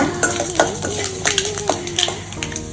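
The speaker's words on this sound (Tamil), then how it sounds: "ஆயில் ஊற்றிட்டு கடுகு நல்லா பொரிஞ்சதும் கடலைப்பருப்பு உளுந்தம்பருப்பு போட்டுட்டு நல்லா வறுத்து விட்டுக்கோங்க" Mustard seeds, chana dal and urad dal fry in oil for rava idli, with a light sizzle under repeated close spatula scrapes and taps against the pan in an uneven rhythm.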